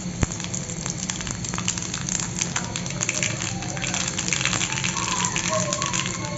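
Panch phoron whole spices frying in hot oil for an elephant apple pickle, a dense steady sizzle and crackle running throughout at close range with no pause.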